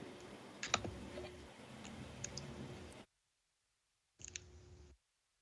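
A computer mouse clicks during software work, with crisp, close, light clicks and tapping over faint room hum, a short burst after a pause.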